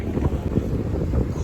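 A boat ride on open water in cold weather, with a steady low rumble and constant wind buffeting the microphone, no voices.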